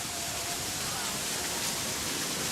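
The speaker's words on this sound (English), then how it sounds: "Another view of the waterfall." A waterfall pours steadily outdoors, a dense, even rush of water that fills the whole moment at a constant level with no breaks.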